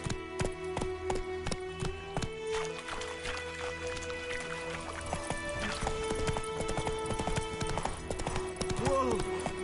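Roach, a horse in the video game Witcher 3, gallops with quick rhythmic hoof clip-clops over a steady game soundscape and a dense music bed, moderately loud throughout.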